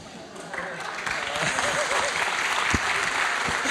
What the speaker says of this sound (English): Don't clap for that